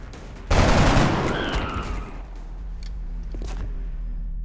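A burst of gunfire in the video game XCOM: Enemy Unknown opens with a loud, dense crackling volley that fades into a lingering rumble and faint echoing tail.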